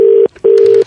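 Two loud, steady telephone beeps sound after a call drops, each lasting about a quarter second with a short gap between them.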